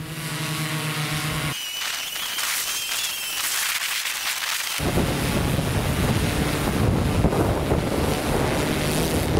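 Strong wind buffets the microphone outdoors during a drone battery test flight with a DJI Matrice M210, loud rumbling gusts swelling across the clip, easing briefly before a heavier blast takes over, with no talk.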